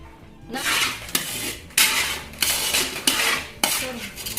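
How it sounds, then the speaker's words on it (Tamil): Beetroot malt being stirred in a metal pan, with a spoon scraping and clanking against the sides in repeated loud bursts. "சர்க்கரை சேர்த்தாச்சு சார் கிண்டிட்டு இருக்காரு இப்போ"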